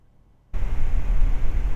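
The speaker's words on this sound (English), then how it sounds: "That's the noise of the fan spinning in the background" Steady broadband whir of a computer cooling fan spinning, boosted by normalization to 0.1 dB, starting abruptly after a half-second of near silence and then holding an even, continuous hiss and low rumble.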